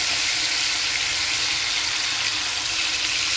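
Ground spice paste sizzles in reused cooking oil left from frying tofu, a loud steady hiss that holds even and close throughout with no talking.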